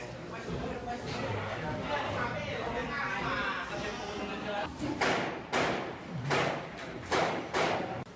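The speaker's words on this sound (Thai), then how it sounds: "ขณะที่เสียงปืนภายนอกดังขึ้นอย่างต่อเนื่อง" Repeated sharp thuds and bangs of distant gunfire during armed clashes at Lak Si, some in quick bursts, over a constant murmur of background chatter and crowd noise.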